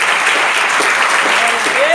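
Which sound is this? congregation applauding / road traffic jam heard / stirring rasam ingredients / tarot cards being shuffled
congregation applauding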